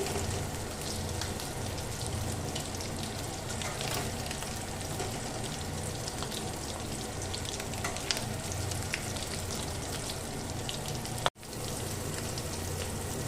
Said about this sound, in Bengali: আলুটাকে তেল থেকে এখন তুলে নিচ্ছি